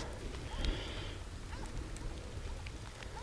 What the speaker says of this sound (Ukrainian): почався трошки дощик